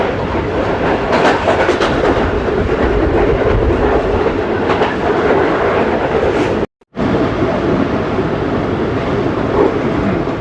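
Tezgam 8 Down passenger train runs along the rails with a loud, steady rumble and rhythmic clickety-clack of wheels on track, heard from on board with wind noise and one brief dropout.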